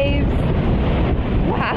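Strong wind buffets the microphone over a steady roar of crashing sea waves on a Scottish coast during a snowstorm, loud and continuous with no break.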